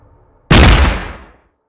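A single loud flintlock musket gunshot, used as a sound effect in a Thai horror audio drama, bursts abruptly from near quiet and rolls off in a decaying boom over about a second.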